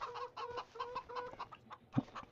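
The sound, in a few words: chickens clucking in Farming Simulator 25 video game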